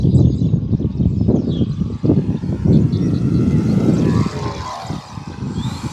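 A Dancing Wings Stick 14 RC model airplane, 1.4 m span on a 4S 2200 battery, flies in windy conditions; its propeller engine whines steadily and loudly overhead throughout, with buffeting wind noise and no talk.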